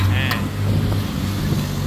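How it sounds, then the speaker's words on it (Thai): A gas wok burner at a roadside stall in Khon Kaen, Thailand, turned up high while stir-frying holy basil: a steady, close, low roar runs throughout beneath a talking voice. "เร่งไฟแล้วเร่งไฟแล้ว"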